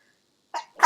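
A person sneezes once, a short two-part burst with a quick intake and a sharper release, close and otherwise alone in silence.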